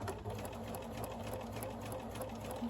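Sewing machine stitching a quilt block pillow cover: a steady, fast mechanical whir with an even rhythmic needle tick, close and fairly quiet, running continuously with no talking.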